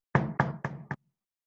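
Knuckles knocking on a table to mimic a hand on a door, four quick close wooden knocks in a steady run, the last slightly softer.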